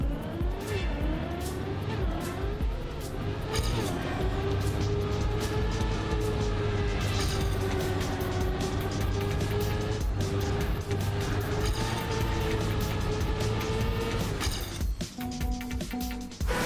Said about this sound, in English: You want it to sound like that, like a high rev through the whole corner.